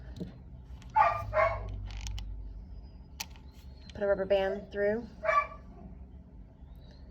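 A dog barks in short bursts in the background of an indoor room while a person speaks nearby, the yips and barks overlapping the talk.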